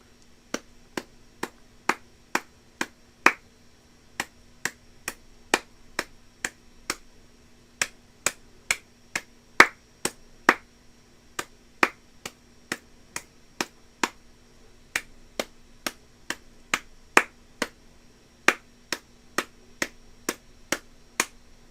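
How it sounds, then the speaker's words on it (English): Sharp hand claps tapping out the rhythm of a familiar song, a long steady sequence of crisp single strikes in uneven melodic groupings, close and clear against a quiet background with a faint hum. "I am going to clap out a song and I want you to guess it."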